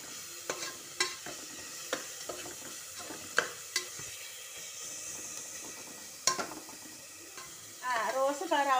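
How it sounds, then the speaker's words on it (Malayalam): Onions fry for a dry prawn curry with a low background sizzle, punctuated by distinct spatula scrapes and taps against the pan at irregular intervals, with a brief burst of louder activity at the end. "നന്നായിട്ട് ഇളക്കി കൊടുക്കണം"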